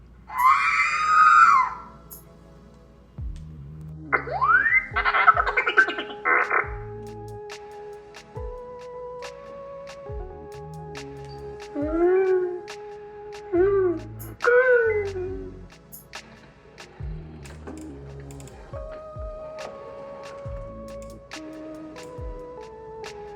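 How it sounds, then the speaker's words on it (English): An R2-D2 replica droid emits a long run of electronic beeps, whistles and warbling chirps, with sweeping tones and rapid trills in bursts over about twenty seconds, close and fairly loud with no talking. "R2 is going to make some noises for you in a minute"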